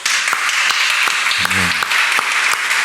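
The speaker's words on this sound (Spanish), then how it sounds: "Démosle un aplauso al Señor." Congregation at a church service applauding, dense steady clapping throughout with a few sharper claps, and a brief low voice or tone in the middle.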